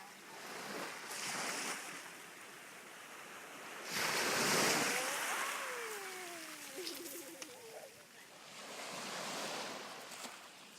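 Ocean waves break on a shore in several rolling surges of loud, broad wash that rise and fade over the stretch. There is wind noise, and a few faint voices call out in the middle.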